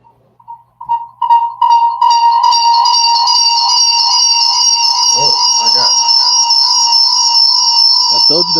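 A loud electronic alarm rings continuously in steady harmonic tones that hold for several seconds, with brief low voices breaking in underneath partway through.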